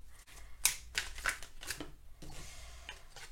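A deck of Améthyste Love oracle cards is shuffled by hand, with a series of soft, close riffling and slapping bursts, quiet and irregular, and no speech.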